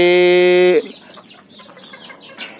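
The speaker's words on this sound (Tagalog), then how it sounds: "Mga kuya, kuya Munding, ang gaganda ng mga sisiw" On a farm, a chicken gives a loud, tonal call that cuts off abruptly. Faint, scattered peeps from chicks and soft rustling follow in a quiet background.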